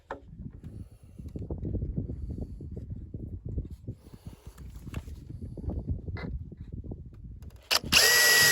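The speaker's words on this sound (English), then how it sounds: "using the self-drilling screws, self-tappers, self-drilling" A power drill drives self-drilling screws into steel in short repeated bursts, the motor whirring and the bit grinding close by, with a brief louder burst at the end.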